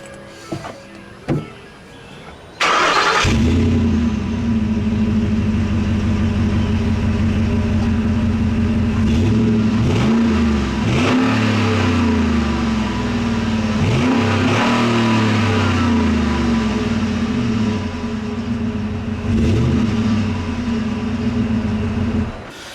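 The 6.2-liter V8 of a 2012 Ford F-150 Harley-Davidson Edition starts with a sharp burst, settles into a deep idle, then is revved several times in rising and falling swells, loud and close with no talking.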